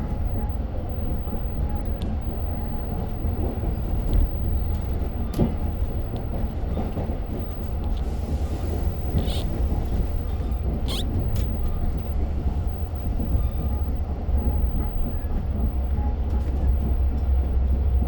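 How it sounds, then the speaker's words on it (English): Long Island Rail Road train running between Oyster Bay and Jamaica, a steady low rumble and rolling drone from inside the car that holds evenly throughout with a few faint clicks on top. "This is the train to Jamaica."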